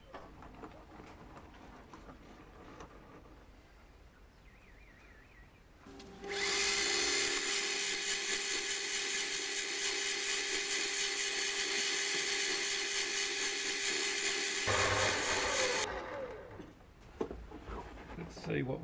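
Emery tape sanding a metal spindle for a modified Gingery dividing head, likely spun on a lathe: a loud, steady broadband hiss and whir runs for about ten seconds, then stops, with quieter workshop noise before and after.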